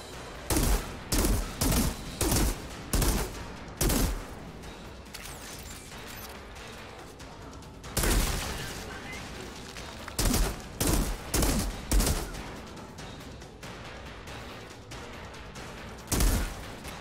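Repeated gunfire in the Outriders video game, loud clustered shots in quick volleys with pauses between bursts, plus mechanical clacks, with almost no talk.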